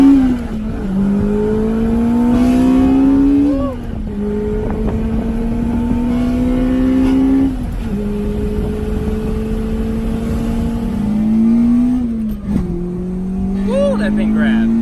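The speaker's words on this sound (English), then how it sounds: "We're gonna go ahead and just show you some pulls on the car" A stock Acura RSX Type S engine revs hard through several pulls, pitch climbing steadily and dropping sharply at each gear change, loud and close from inside the car.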